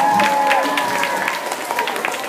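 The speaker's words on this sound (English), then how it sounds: "So give yourselves another round of applause" Applause from a crowd of students at a school public speaking contest, a steady dense patter of clapping running throughout at moderate loudness, with some voices mixed in.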